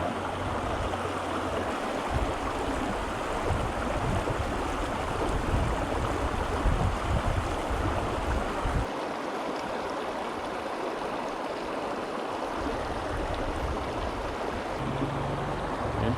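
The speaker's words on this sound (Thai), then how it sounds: "เป็นลำธารเล็กๆกับน้ำไม่ลึกเท่าไหร่" Small, shallow stream rushing over rapids on a fly-fishing trip, a steady broadband burble of running water close by that continues alone, without talk, and shifts slightly partway through.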